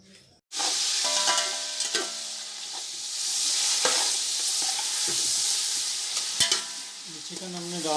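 Chicken pieces drop into hot cooking oil for biryani and set off a loud, steady sizzle, with scraping and clinks from stirring as the frying carries on close by.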